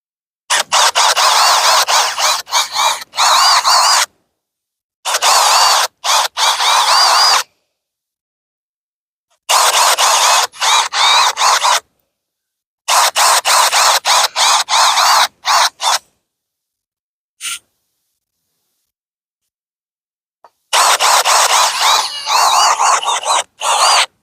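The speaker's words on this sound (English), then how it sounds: "So I'm going to do the holes here with the auger" An auger drills holes in the ground for fall daffodil bulb planting in Wisconsin. It makes loud, close grinding bursts of several seconds each, separated by abrupt silent pauses.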